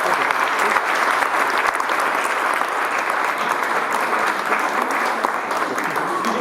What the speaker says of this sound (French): Voilà, donc on peut doublement l'applaudir.